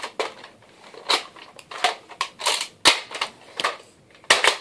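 Toy cap gun snapping repeatedly during a Russian roulette game, a quick run of sharp, dry clicks and pops at close range with no talking over them.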